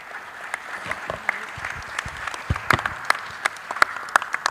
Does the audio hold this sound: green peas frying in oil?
no